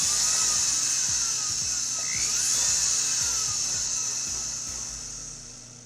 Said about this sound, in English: we got to flatten both sides. I like to use my sandpaper disc.